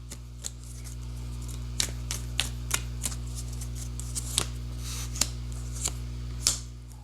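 Tarot cards being drawn from a deck, heard as a scatter of soft, brief card snaps and slides at irregular intervals over a low steady hum, close and fairly quiet, with no talking.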